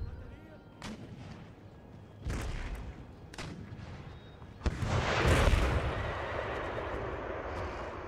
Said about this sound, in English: Just pound them with some more cannon fire at point blank range.